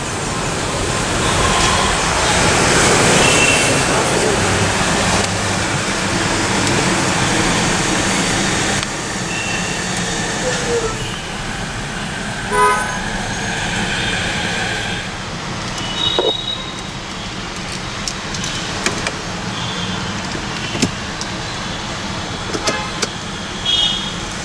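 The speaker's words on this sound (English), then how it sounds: "Beautiful sound from that turbocharged 4-cylinder." A 2017 Mercedes-AMG CLA45 with a turbocharged four-cylinder engine, heard as a steady, loud engine roar that eases after about nine seconds, with brief pops and sharp transients later on.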